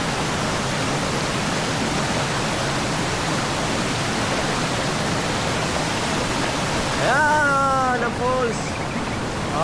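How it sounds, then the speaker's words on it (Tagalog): Kunapuin Falls roars as a steady, dense wash of falling water, loud and constant throughout, with a voice calling out over the rushing noise near the end. "Ayan yung falls guys."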